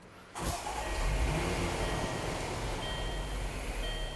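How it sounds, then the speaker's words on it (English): A 2014 Range Rover 3.0L engine cold-starts after a short quiet moment, cranking and catching into a loud, close, raised idle that holds steady and slightly settles. "we're going to start the vehicle and see if it'll do it"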